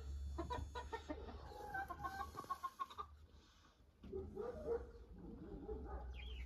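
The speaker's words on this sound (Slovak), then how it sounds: "Aj táto kvočí." Broody hens cluck in a backyard flock, soft repeated clucks over a steady low hum, with a dog-like bark and other poultry calls mixed in, no talk.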